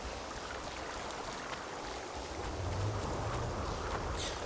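Steady rain in The Witcher 2 Enhanced Edition, a broad continuous hiss with a low watery rumble that swells slightly toward the end, heard alone without voices.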